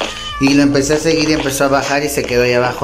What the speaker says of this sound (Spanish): Ese es el gato que estaba ahí.